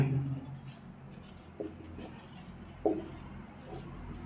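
A teacher's pen or chalk scratches in short strokes while writing notes for a physics lesson on spherical lenses, faint and close, with the teacher's voice speaking over it.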